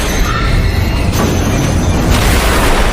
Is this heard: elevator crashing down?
yes